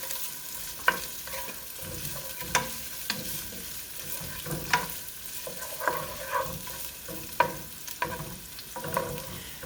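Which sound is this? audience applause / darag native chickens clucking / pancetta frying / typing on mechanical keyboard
pancetta frying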